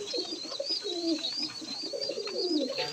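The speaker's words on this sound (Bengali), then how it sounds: "এইখানে আরেক পেয়ার হলুদমুখী কবুতর আছে।" Yellow-faced fancy pigeons coo softly and repeatedly at close range in a loft, their low rolling calls overlapping with faint background chirps.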